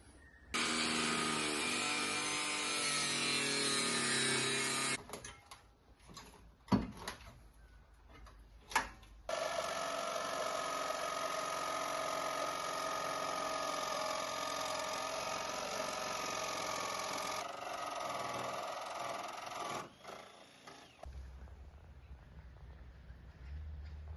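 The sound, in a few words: angle grinder with 1mm cut-off disc cutting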